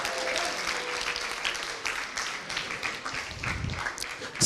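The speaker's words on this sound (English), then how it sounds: "Big round of applause." Audience applause fills a conference hall at a pan-African event on illicit financial flows and taxation, steady clapping from a large crowd throughout, with a little cheering near the end.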